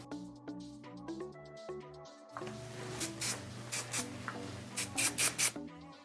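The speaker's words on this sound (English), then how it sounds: "you can take your Sunlight styling spray just to really finish it off" Quiet background music plays, then several short hissing bursts of aerosol spray sound in quick succession up close.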